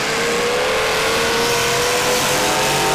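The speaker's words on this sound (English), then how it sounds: "Cliff Bandrich and the K9, the green vehicle, entering the X." A race car in a figure-8 trailer race at Rockford Speedway, its engine holding a loud, steady roar close by for the whole clip, with no talk.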